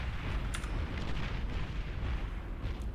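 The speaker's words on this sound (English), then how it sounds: "But all these battleships shelling him from a huge range, and Teddy simply does not have" Distant battleships shelling from long range in the real-time strategy game Beyond All Reason, a steady dense rumble of booming artillery impacts with a few sharper crackling bursts, continuous and loud throughout.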